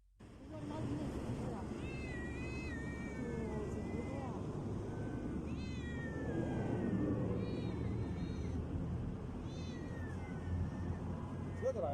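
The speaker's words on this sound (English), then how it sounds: "This is a bag of cats on the sidewalk." Several cats meowing and yowling from inside a bag left on a city sidewalk: repeated plaintive, wavering cries at close range over a steady low rumble of street noise, with faint voices in the background.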